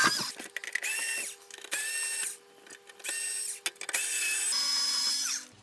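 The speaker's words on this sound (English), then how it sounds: "I'm just gonna use my trusty old power screwdriver" A power screwdriver whirs in repeated bursts while taking screws out of a Sky Plus satellite box, the motor buzzing loud and close with short pauses between runs.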